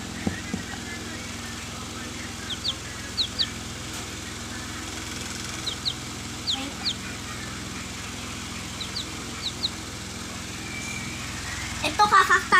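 Faint, high chick peeps repeat in short, scattered bursts over a steady low background hum, with a brief cluster of clatter near the end.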